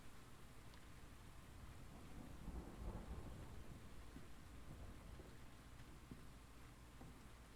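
Thunder rumbling low beneath steady rain in The Invisible Hours, a faint, distant storm swelling briefly in the middle and then settling back into the rainfall.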